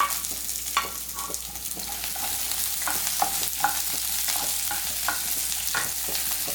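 Two medium onions, cut large, fry in a pan with a continuous bright sizzle while a spoon scrapes and stirs in irregular taps and strokes, close up with no talking.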